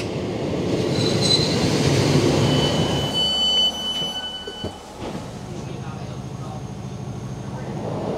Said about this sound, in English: I think this is the exact same train that we got on to start this.